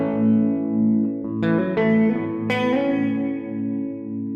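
Electric guitar through a Swindler Effects Red Mountain tremolo pedal on its sine wave setting, sustained chords swelling and fading in smooth, regular pulses, with a few fresh strums ringing out loud and alone.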